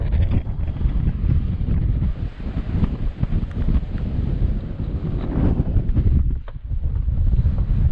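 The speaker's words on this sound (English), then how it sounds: "I'll tell you that wind is still up though, it's freezing." Strong, cold wind at a wild mountain camp on Canisp in Assynt buffets the microphone in a steady, loud, roaring rush with gusty surges throughout, and no voices are heard.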